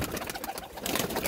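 Jaldar pigeons coo in soft, throaty repeated calls close by, with a steady muffled background and no talking.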